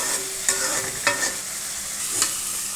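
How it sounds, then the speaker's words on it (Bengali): Meat with spices and satkara citrus sautés in a pan, with a steady close sizzle broken by a few sharp scrapes and clacks of a stirring spoon. "এবার সাতকরাটা সহ মশলাটা অনেকক্ষণ কষিয়ে নিব, যাতে সাতকরার ভিতরে মশলাটা ঢুকে যায়"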